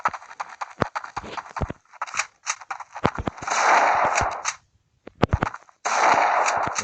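Game gunfire in CS Portable, an online FPS: rapid, sharp shots fired in quick bursts with short pauses between volleys, loud and close, without any voices.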